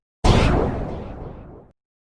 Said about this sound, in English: My musket went off.